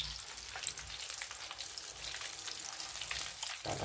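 Jumbo shrimp fry in hot oil with a faint, steady crackling sizzle, a fine hiss of popping bubbles that holds constant and grows slightly busier near the end.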